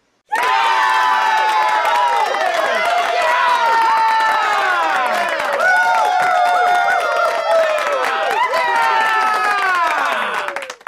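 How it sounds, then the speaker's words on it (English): Canned applause sound effect on a guitar podcast marking a correct quiz answer, a loud sustained burst of clapping mixed with cheering and excited shouts, running for several seconds before cutting off. "If you cannot tell from that eruption of applause, you are certainly correct."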